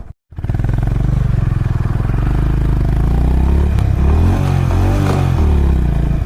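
A Honda Hyness CB350 motorcycle starts off and accelerates from a standstill toward 100, its engine note loud and close, rising through the gears with steady throbbing and wind roar.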